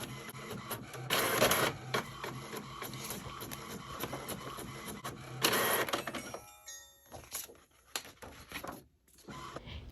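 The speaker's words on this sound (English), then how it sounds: "printed from HP printer, clicked short edge, and it printed out perfectly" An HP printer printing planner inserts: steady mechanical whirring and feeding with louder bursts of motor noise and paper movement, ending in sparser clicks and rustles.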